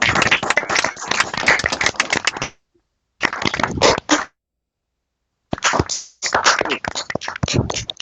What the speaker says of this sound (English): Can we give him a round of applause, maybe as an appreciation?